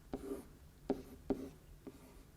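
Chalk or marker strokes on a board while writing out an exponent problem, four short taps and scrapes spaced about half a second apart, quiet and close.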